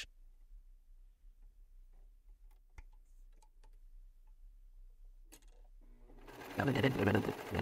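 A sewing machine runs a straight stitch while sewing a snap placket, quiet at first and then breaking into a loud, fast burst of stitching near the end.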